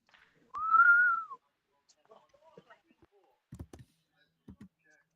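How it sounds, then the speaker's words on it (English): A person whistles one short, bright rising-and-falling note, close and clear, followed by soft scattered clicks and small knocks in a quiet room. "Nice whistle."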